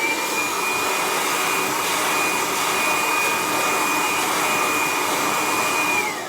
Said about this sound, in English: To start with the hair drying